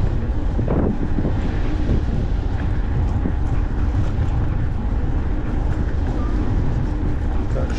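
Loud, constant wind buffeting a microphone outdoors in Crimea in May, a rough low rumble that never lets up across the whole stretch.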